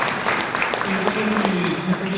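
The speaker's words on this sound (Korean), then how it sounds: "박수 한번 크게 보내주시기 바랍니다." Audience applause at a lecture seminar in a hotel hall, dense clapping from a seated crowd heard under someone speaking over a microphone.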